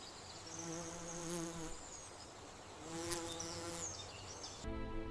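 A steady, buzzing chorus of periodical cicadas of several species drones continuously, rising and falling slightly in intensity, with a brief change near the end.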